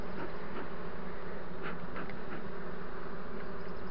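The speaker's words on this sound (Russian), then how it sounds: "Аккуратно дымом загоняю пчел, чтобы не подавить." Honeybees buzzing steadily in an open hive, a dense continuous hum of many insects close by with faint flickers of individual wingbeats, no voices over it.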